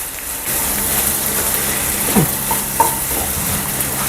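Okra dry fry with coriander being stirred in a pan on the stove gives a steady hiss of sizzling under slow scraping strokes of the spatula, close and continuous.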